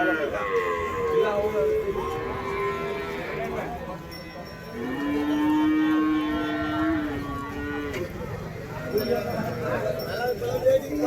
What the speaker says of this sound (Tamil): அப்படியே மாடு பார்த்துக்கோங்க